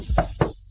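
Two sharp knocks land on a door at close range in a Chinese family drama, spaced a quarter second apart.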